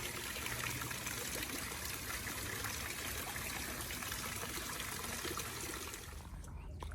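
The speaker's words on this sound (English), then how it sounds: "Just introducing you to my koi pond, which is in the front of my yard" Water trickling steadily into a koi pond in a yard in Jamaica, a continuous soft splashing babble at moderate distance, easing off near the end.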